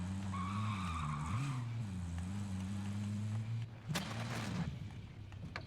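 A vehicle in Call of Duty Warzone drives with a loud, sustained engine drone that rises and falls, then skids with a brief sharp tire squeal and crunch before the engine carries on.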